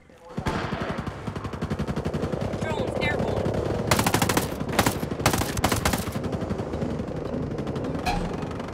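Sustained automatic gunfire in Ghost Recon Breakpoint, a rapid rattling stream with several sharper, louder bursts midway, close and continuous over low rumble.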